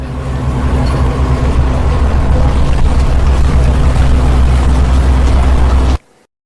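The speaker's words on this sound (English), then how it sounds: "ship," A ship's engine drones in a steady, loud, low rumble for about six seconds and then cuts off abruptly into silence.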